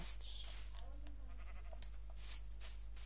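Sheep bleat in the Minecraft video game, a few short faint calls over a steady low hum, with soft clicks in between.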